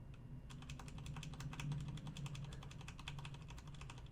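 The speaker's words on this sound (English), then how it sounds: "listen to the O-ring now on a normal key." Steady rapid typing on a mechanical keyboard with O-rings fitted to the normal keys, soft damped clicks in a continuous irregular rhythm, quiet and close.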